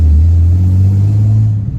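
Ford Falcon EB Fairmont exhaust giving a loud, steady low rumble at idle, close by, holding evenly for nearly two seconds before easing off slightly at the end.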